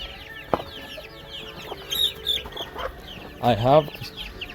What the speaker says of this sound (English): So this one is acting like the mother to this chicken. Yeah, and is even making noise to suggest that is the mother.